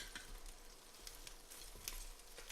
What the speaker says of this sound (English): We're going to go ahead and open it. And we're just going to flip the wings over.